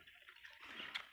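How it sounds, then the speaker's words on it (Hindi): Water trickles and flows slowly into a pit in a Punjabi village, a faint steady rushing and splashing heard close by. "ये देखो आस्ता आस्ता पानी आता है"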